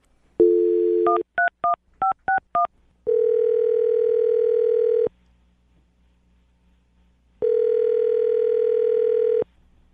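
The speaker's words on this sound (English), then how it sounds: "Any last thoughts before I dial her phone?" A steady telephone dial tone, then a quick run of touch-tone keypad beeps, followed by two long ringback tones separated by a pause.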